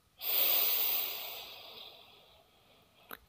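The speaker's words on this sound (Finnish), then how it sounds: "Otat uutta ilmaa sisälle ja ulos hengittäen päästät vanhaa ulos." A single nasal breath during a face-yoga exercise: a strong, airy inhale that starts suddenly and slowly fades over about three seconds, then a short sharp puff near the end, close and quiet with no talking.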